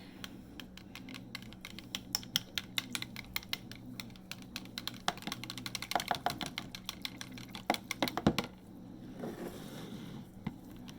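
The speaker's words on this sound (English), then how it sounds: "A little bit whisk." A whisk beats a cold process soap mixture in a container with rapid, irregular clicking and tapping strokes. The sound is close but fairly quiet, it speeds into a dense flurry midway, and it stops near the end.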